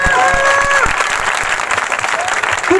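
An Easter church congregation claps together for God, a dense, steady burst of applause filling the hall at close range, with a few voices briefly calling out over it at the start.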